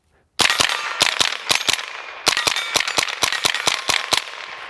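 A KRISS DMK 22 rifle firing Federal Black Box rounds from a 15-round magazine, sharp loud cracks in a quick string of about sixteen shots with a brief pause partway through.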